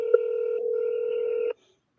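A telephone gives off a steady electronic dialing tone for about a second and a half during a call-back, then cuts off abruptly into silence.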